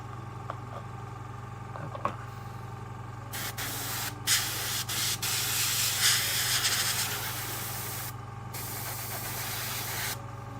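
Compressed air hisses from an airbrush to blow resin flakes off a miniature, a steady quiet background hum then a sustained loud spray burst lasting several seconds with brief interruptions.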